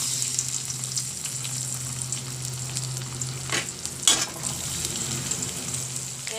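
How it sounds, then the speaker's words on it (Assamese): Potatoes fry in oil and butter in a wok, a steady close sizzle with occasional stirring scrapes and clinks, no talking. "ইয়াতে কেৰাহীত তেল আৰু বাটাৰ ৰৈ গৈছে ইয়াতে মই আলুখিনি ইয়াতে ভাজি লম"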